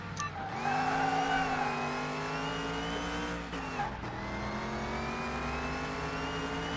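In a PS5 racing video game, a car engine is revved quickly and then held at a steady, droning pitch with a slight dip partway through, loud and continuous with no talking.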